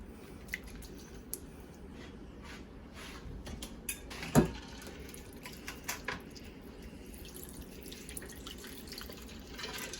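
Something being washed by hand in a sink of water, with soft wet drips, squishes and light splashes throughout, close by, plus one sharper knock partway through.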